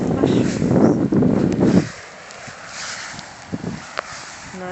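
Wind rumbles and buffets the microphone in a loud gust for the first couple of seconds, then eases to a softer, steady blowing.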